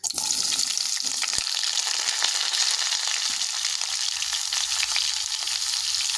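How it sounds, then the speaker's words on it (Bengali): Cut drumstick stalks and potato drop into hot mustard oil tempered with kalonji seeds, setting off a loud, dense, continuous sizzle with a few clatters as the pieces hit the pan. "এবারে আমি এর মধ্যে দিয়ে দেবো কেটে রাখা শশনা ডাটা আর আলুটা"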